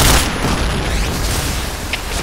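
A grenade blast in a video game: a loud, booming burst that opens sharply and then rumbles and decays into a noisy tail.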